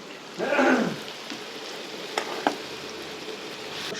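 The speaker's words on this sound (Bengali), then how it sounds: "পেঁয়াজ ভাজা হচ্ছে এখন" Onions fry in a pan with a soft steady sizzle, with a brief louder stir near the start and a few clinks.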